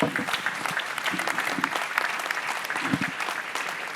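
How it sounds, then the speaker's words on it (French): An audience at a renewable energy forum claps for a speaker, a dense, even round of applause that holds at moderate loudness throughout, with no talking over it. "je pense qu'on peut applaudir Arnaud Gossement"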